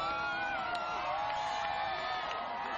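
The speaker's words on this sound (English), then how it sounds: "Claps, cheers, here it comes." A crowd outdoors during a solar eclipse whoops and cheers in a sustained, loud wash of voices, with scattered shouts rising above the general roar and some clapping mixed in.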